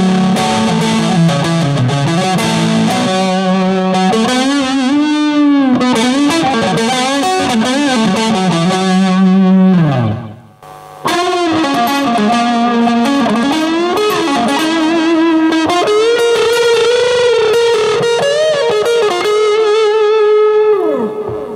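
An electric guitar plays through a vintage Zoom 4040 multi-effects unit, giving sustained, heavily processed distorted notes and bends with a rich, effected tone. A short gap in the middle splits it into two loud phrases.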